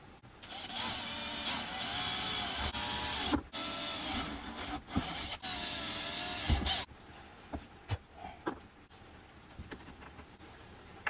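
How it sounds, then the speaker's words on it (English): A power drill bores holes into a guitar amp cabinet to fit casters, its whine running steadily for several seconds, then cutting off into short bursts and bumps toward the end, close and fairly quiet. "Up the speed to drilling speed."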